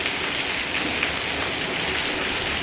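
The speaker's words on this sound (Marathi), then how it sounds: "हे बघा कसला पाऊस दिसालाय" Heavy monsoon rain pours down in a thick, continuous roar of drops striking surfaces, close and unbroken, with no talking.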